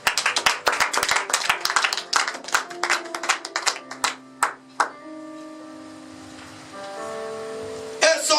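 A church congregation claps together loudly for several seconds with a steady rapid patter, then it dies away into sustained organ or keyboard tones with a few isolated claps.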